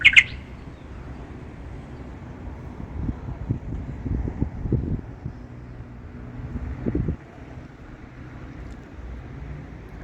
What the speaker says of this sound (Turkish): Rüzgar kuşu basıyor.